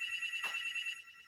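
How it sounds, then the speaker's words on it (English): A phone ringtone chimes steadily, a bright sustained electronic tone playing throughout, briefly swelling near the start and fading slightly toward the end, heard alone without speech. "every time this phone rings, every time"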